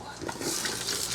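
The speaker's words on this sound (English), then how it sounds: "you guys remember all those carrots and onions we cut up earlier? Well, here they go" Chopped carrots and onions tumble into the hot pot of a Ninja Foodi for beef bourguignon, a dense close rustling sizzle and clatter that swells and keeps going for about a second.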